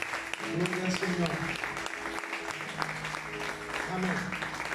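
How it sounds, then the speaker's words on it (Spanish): A church congregation applauds during a service, steady clapping heard beneath someone speaking over it throughout. "Podemos dar un aplauso al Espíritu Santo. Un aplauso más fuerte"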